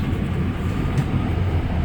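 Rumbling, steady roar of an REM light metro train running through the Montreal tunnel in the early morning between stations, a continuous loud low drone filling the space with no voices.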